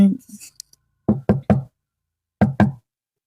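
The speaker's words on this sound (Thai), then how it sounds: "ก็มีเสียงเคาะห้อง" Knocking on a room door: a short double knock, then a triple knock, and after a pause another double knock, close and sharp with brief silences between.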